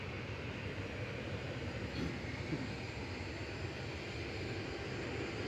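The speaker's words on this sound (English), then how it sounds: "There's a jet just arriving there." An Airbus A320-200 jet arriving at Manchester Airport makes a steady, distant low roar of engine noise that holds at an even level throughout, with no voices.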